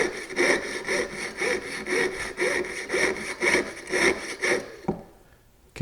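A hand saw cuts through a precious metal workpiece such as gold, silver or platinum with steady, rhythmic back-and-forth strokes, about two per second, close and clear, then stops near the end.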